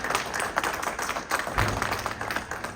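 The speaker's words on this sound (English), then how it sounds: "so give Scranton a round of applause" Applause from an audience at a mayors' housing policy event in West Philadelphia, a moderate, uneven patter of clapping with a few sharper individual claps, lasting under three seconds.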